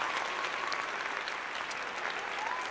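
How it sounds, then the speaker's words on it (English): A short burst of applause sound effect: dense, even clapping from a crowd, sustained at a steady level for a couple of seconds with no voices over it. "I'm going to give an applause to all the new folks"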